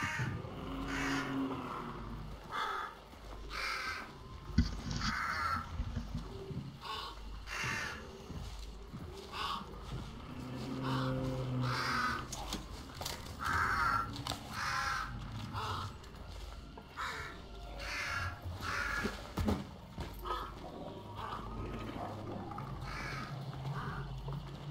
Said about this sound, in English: Careful of the crows, don't startle.